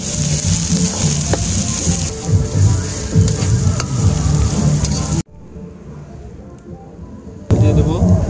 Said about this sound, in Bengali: এবার আমরা দিয়ে দেবো জিরে বাটা